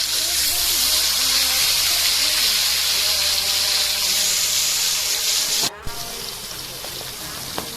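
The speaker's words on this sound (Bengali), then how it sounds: "এবার মাছের পিসগুলিকে ভালোভাবে আমরা ভেজে নেব।" Pieces of pangas fish fry in hot oil with a loud, dense, continuous hiss and sizzle close up, which then drops abruptly to a quieter crackle near the end.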